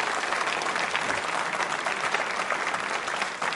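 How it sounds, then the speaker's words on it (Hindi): Quiz show audience at a Ganesh Chaturthi school and college quiz breaks into sustained applause for a correct answer, a steady wash of many hands clapping, fairly distant and subdued in level, with no break. "तालियां जोरों से बजाइए इस सही उत्तर के लिए आप।"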